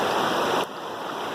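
Water flowing steadily in a forest waterfall, a dense broadband rush that is loud at first and drops to a softer, even flow partway through.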